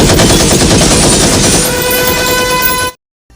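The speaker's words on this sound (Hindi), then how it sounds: "जब खेसारी लाल यादव गन से फायर करते हैं" Rapid, continuous gunfire rattles loudly through a Bhojpuri action movie teaser, a dense burst with ringing tones that cuts off abruptly into silence near the end.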